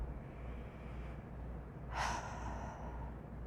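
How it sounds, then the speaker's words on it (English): A single quick, audible inhale of breath, fairly faint, rising briefly against a quiet background hiss. "let's take a deep breath."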